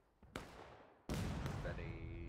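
Musket volley in the Civil War game War of Rights at Antietam, two booming discharges, a smaller crack followed by a loud, sustained roll of massed shots with lingering rumble, heard close over distant battlefield noise.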